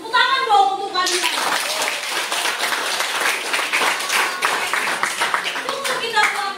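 A class of schoolchildren claps together for several seconds, with young voices heard before and after.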